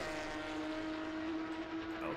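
Racing-game car engine from a Porsche Cup race at Oulton Park, a steady sustained drone with a strong held tone that shifts slightly near the end, loud and continuous with faint speech beneath.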